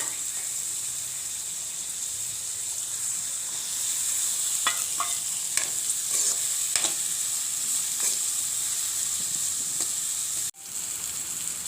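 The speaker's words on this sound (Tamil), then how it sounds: "இதோடையே நான் வந்து கறிமிளகாயையும் போட்டு சேர்த்து வதக்க போகிறேன்" Onions and chillies sautéing in a pan for Jaffna-style bread kottu, with a steady close sizzle and several sharp stirring scrapes, then a brief dropout before the frying noise resumes.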